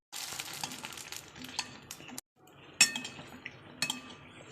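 Puris for fuchka dropped one by one into hot oil in a kadai, crackling and sizzling in bursts with metallic clinks of a utensil against the pan, separated by a brief silent gap.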